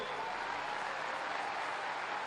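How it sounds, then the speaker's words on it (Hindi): A large crowd claps steadily to welcome Yogi Adityanath at an election rally in Maharashtra, a dense, even wash of applause throughout the short burst. "इनका बहुत जोर जोरों से उत्साह से एक बार ताली बजा के आप स्वागत करेंगे"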